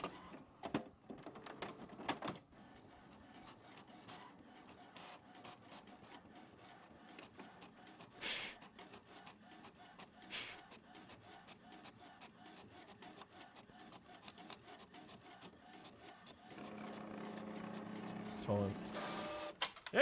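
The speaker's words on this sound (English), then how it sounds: "We're out of magenta on the printer." A printer runs for about twenty seconds with intermittent mechanical whirs, clicks and feed sounds, busier toward the end, while people talk nearby.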